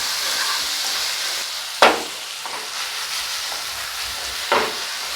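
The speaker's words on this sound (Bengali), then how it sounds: "তারপরে একটু নাড়তে হবে।" Tomatoes with salt and turmeric sizzle in a hot pan as they are stirred, with a steady frying hiss broken by two sharper scraping strokes of the spoon.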